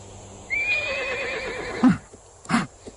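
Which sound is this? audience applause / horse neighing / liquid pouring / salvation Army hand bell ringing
horse neighing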